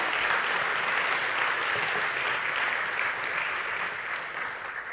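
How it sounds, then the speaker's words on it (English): A conference audience at an African markets event claps in sustained, dense applause that stays loud and even for several seconds before easing slightly, with no voices over it. "A round of applause, huh?"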